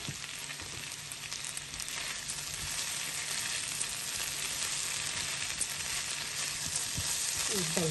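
Potato and bell pepper curry cooking in a pan produces a faint, steady frying hiss throughout, with a few soft clicks and stirring touches, no voices.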